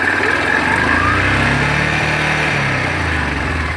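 A 2000 Yamaha Kodiak 400 automatic ATV engine idles in neutral, a loud, close, steady buzzing drone with a slight pitch dip midway and no speech.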